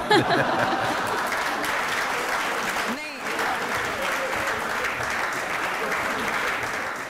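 Studio audience at a Bengali-dubbed courtroom-style celebrity talk show breaks into loud, sustained applause that fills the whole stretch, a dense wash of clapping with a few chuckles, dipping briefly midway before swelling again.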